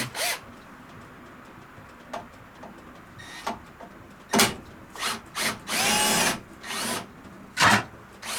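Short bursts of a power drill whirring while removing a screw from a NordicTrack elliptical, starting and stopping several times, with one longer run, close by and without talking.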